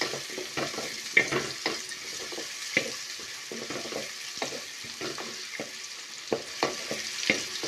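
Onions fry in a pan as the base for beef cooked with bottle gourd, giving a soft steady sizzle with irregular clinks and scrapes of a spoon stirring, close and moderately quiet, with no talking.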